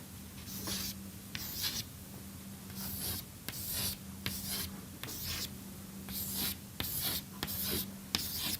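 Pen or marker scratching out a two-dimensional lattice of atoms by hand during a lecture: repeated short strokes in quick bursts with brief pauses between, close and steady, with no talking.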